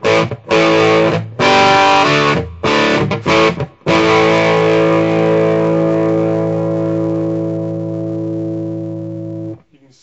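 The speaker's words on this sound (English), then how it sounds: "I can still access a lot more fuzz just by kicking this up a little bit" Electric guitar through a Keeley Fuzz Head pedal with the fuzz turned up: a few choppy, loud fuzzed stabs, then a thick distorted chord left ringing until it cuts off sharply near the end.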